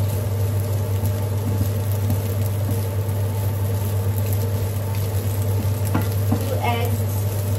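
Fried rice with eggs and carrots sizzles steadily in a hot pan while being stir-fried, a constant close crackle with occasional scraping stirs.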